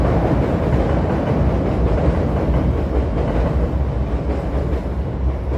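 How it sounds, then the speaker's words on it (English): A Chicago Green Line elevated train passes over 14th Street in the South Loop as a loud, steady broadband rumble and roar that stays continuous throughout, with no voices. "We'll get the train coming by here. There's the green line heading across 14th Street."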